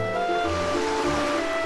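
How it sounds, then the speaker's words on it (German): Stormy sea waves heave and crash around a small rowing boat on the open sea, a steady loud rushing surge with low rumbling swells throughout. "Nach einer Weile zog ein heftiger Sturm auf."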